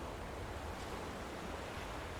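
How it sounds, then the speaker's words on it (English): Water runs down rocks in the video game Dragon Age Inquisition, making a soft, steady, continuous rushing hiss with no break. "look at the water coming down the rock."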